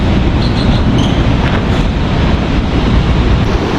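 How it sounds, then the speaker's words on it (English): Steady, loud roar of surf crashing on a beach in Costa Rica, a broad wash of noise with wind buffeting the microphone throughout, no voices. "Massive waves crashing on the beach right there."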